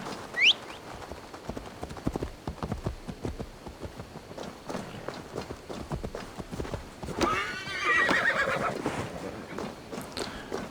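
A horse in Assassin's Creed Valhalla whinnies sharply near the start, and its hooves clip-clop steadily throughout. A brief rising rush of movement follows later.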